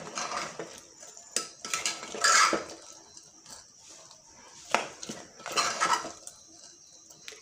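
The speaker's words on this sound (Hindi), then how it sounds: "इसको हम डाल देंगे, डाल के इसको हम चला लेंगे।" Chana dal and ridge gourd are stirred in a cooking pot in a home kitchen, giving repeated scraping and clinking strokes of a spoon against metal in uneven bursts, close and moderately loud, with no talking.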